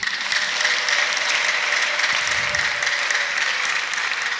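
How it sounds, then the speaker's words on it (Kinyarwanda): A church congregation gives loud, sustained applause, with dense, even clapping that fills the room from start to finish. "Nimuyikomera amashyi."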